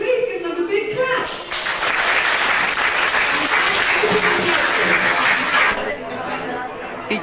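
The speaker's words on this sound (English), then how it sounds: "Could you please give them a big clap?" Festival audience at the 1993 Downham Market Festival bursts into loud, dense applause after brief talk, sustaining it for several seconds amid crowd chatter before it thins out.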